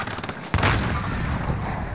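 Rapid gunfire in the online shooter game Warzone, a loud sustained burst of shots that starts abruptly and keeps rattling without pause.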